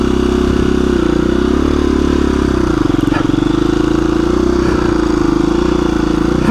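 A KTM 350 EXC-F dual sport motorcycle creeping along slowly in a very low first gear with the clutch slipped, a loud, close, steady low engine thrum with slight rises and dips in revs.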